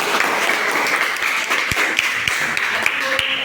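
A crowd applauds steadily, a dense wash of many hands clapping at moderate loudness, continuing throughout.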